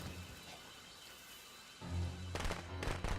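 Firecrackers go off in Friday the 13th: The Game: a burst of sharp, crackling pops after a quieter stretch, with a second cluster of loud bangs near the end.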